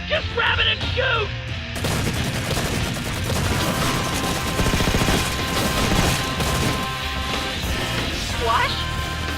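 A sustained, dense barrage of gunfire fills a Red vs Blue battle scene, loud and continuous with clattering impacts and crashes, while a voice briefly speaks at the start and again near the end.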